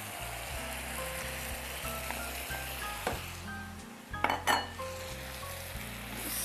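Chopped tomatoes stirred into caramelized onion in a pan sizzle steadily, with a spoon clinking and scraping against the pot partway through.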